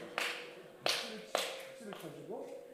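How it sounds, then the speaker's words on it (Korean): Claps offered as a response during a church mountain gathering sermon: three sharp, fairly faint claps in an uneven rhythm, with someone speaking around them. "박수를 쳐줘."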